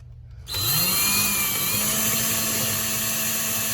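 A power drill starts up after a brief quiet moment and runs steadily at high speed into drywall, close and loud, with a whining pitch.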